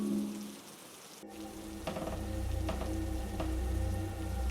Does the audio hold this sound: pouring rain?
yes